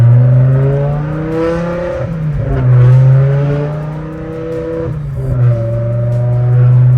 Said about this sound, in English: Alright, we'll do a little acceleration inside the car.